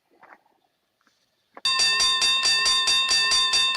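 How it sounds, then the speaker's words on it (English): A game show perfect bid bell rings suddenly and loudly in rapid repeated strikes, after a brief quiet stretch with faint sounds. "Perfect bid bell goes off for Brandon Bogard."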